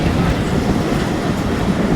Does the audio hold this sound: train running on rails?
yes